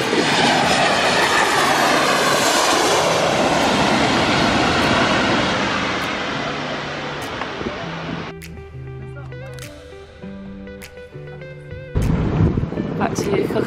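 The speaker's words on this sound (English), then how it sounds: "Airport and there's a plane landing in just over a couple minutes." A plane lands at Skiathos airport seen from a beach, its engine roar loud and broad at first, then fading and shifting lower, with other noise and voices mixed in toward the end.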